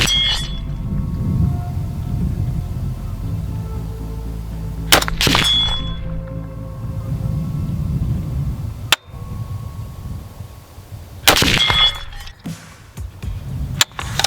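A scoped rifle fires 7.62x51 149-grain M80 ball full metal jacket Winchester rounds at a 100-meter target. About five sharp, loud cracks come at irregular intervals, some closely paired, over a quiet background.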